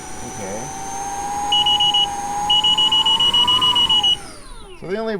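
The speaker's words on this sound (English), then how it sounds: "So they only have one set of beeps." Lynx electric unicycle warning beeps ring out during high-speed riding, first a short burst of four beeps and then a longer rapid run, sitting over steady wind rush and a high whine while riders talk.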